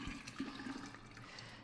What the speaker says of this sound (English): we are adding water to the honey so that I can stir it